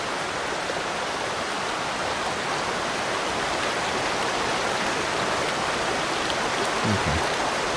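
Steady broadband rush of falling water in the game Among Trees, loud and constant like a waterfall, filling the whole stretch with no voices.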